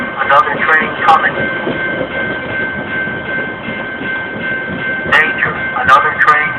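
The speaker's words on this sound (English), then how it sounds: "Danger, another train coming." A freight train rolls past a crossing in Maywood, Illinois, with a steady, loud rumble and rattling wheel noise. A recorded voice warning plays over it, and a sustained tone runs throughout.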